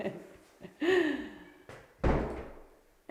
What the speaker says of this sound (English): Can you test shut the door?